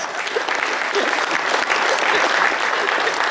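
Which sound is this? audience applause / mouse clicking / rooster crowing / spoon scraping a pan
audience applause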